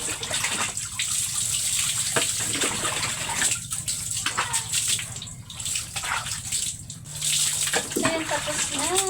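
Running water splashes steadily while a rescue dog named Hope is bathed, with a continuous gushing tap and intermittent splatter close by and a voice speaking briefly over it.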